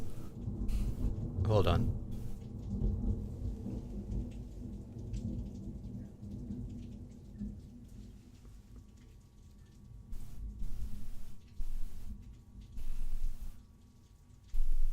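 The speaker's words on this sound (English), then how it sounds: "that thunder rumbled forever" Thunder rolls in a long, deep rumble during a rainstorm, loudest near the start and fading slowly under steady rain, with people talking briefly over it.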